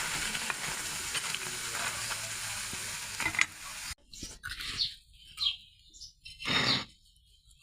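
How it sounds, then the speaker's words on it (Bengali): Karai pitha fries slowly in oil, giving a faint, steady hiss of sizzling for several seconds before it drops away, leaving birds chirping in the background. "খুবই আস্তে আস্তে এই পিঠাটা ভাজতে হবে তাহলে মুচমুচে নরম সুন্দর হবে"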